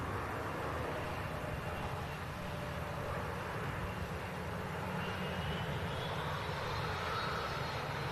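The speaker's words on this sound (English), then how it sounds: "A Virgin aircraft arriving in from Orlando." A Virgin A330 arriving from Orlando and landing, its engines a faint, steady distant roar with a slowly shifting whine, alone with no talk.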